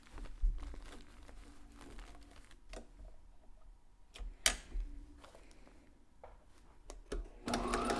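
A sewing machine stitches a homemade Covid-19 protective face mask in short, faint bursts of rapid needle clatter separated by pauses, with a louder run of stitching at the end.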